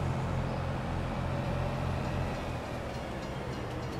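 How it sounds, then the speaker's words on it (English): A train rumbles past in the Farm Sim video game, a steady low mechanical drone with faint rattling, continuous at moderate level without speech. "There's a train back again."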